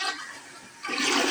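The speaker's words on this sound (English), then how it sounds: "toilet flushes." A household toilet flushing with water rushing steadily, dipping briefly and then surging louder, close by and heard alone without talk.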